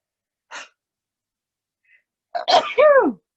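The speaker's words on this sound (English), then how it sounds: "I'm going to sneeze, sorry." A short breathy intake, a pause, then one loud, close sneeze with a voiced, drawn-out finish.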